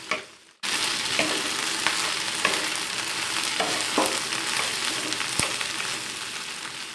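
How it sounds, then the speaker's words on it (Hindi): Okra frying in oil in a pan, a steady close sizzle that starts abruptly after a brief quiet moment and holds at an even level with small pops and crackles throughout. "मैंने हाफ भिंडियाँ जो है वो पैन में डाल ली हैं। मैं इनको जो है भूनूँगी।"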